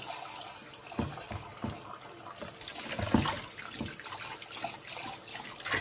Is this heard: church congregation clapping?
no